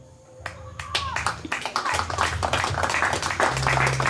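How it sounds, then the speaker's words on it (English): An audience applauds at a community safety competition event, scattered sharp claps building into steadier clapping over a few seconds, fairly close, with a low hum underneath. "I want every one of us to applaud them."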